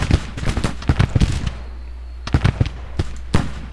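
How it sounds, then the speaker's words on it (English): Artillery fire booms across a Civil War battlefield in a strategy video game, a rapid volley of sharp blasts in two clusters separated by a brief lull, loud and close. "Oh shoot, the artillery is queued up for these guys."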